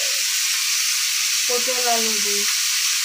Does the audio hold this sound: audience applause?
no